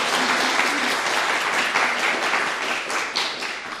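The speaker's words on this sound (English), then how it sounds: "Please, one more round of applause for our wonderful musicians." Loud, dense applause from an audience thanking musicians at a poetry recitation competition, a steady wash of many hands clapping throughout.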